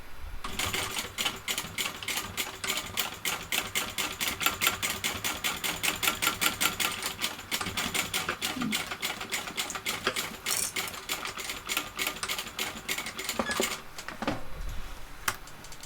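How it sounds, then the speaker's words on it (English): A sewing machine stitches a quarter-inch seam through several layers of a fabric shoulder bag, a steady rapid run of needle strokes that pauses briefly near the end before resuming. "So you want to sew 1/4 inch in the center between the two"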